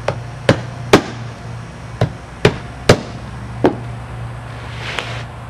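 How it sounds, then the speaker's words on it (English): A hammer drives nails through asphalt roof shingles into the head lap of the shingle below, giving about seven sharp, close strikes at uneven intervals over a low steady background hum. "I'm nailing it right into the top of that other shingle."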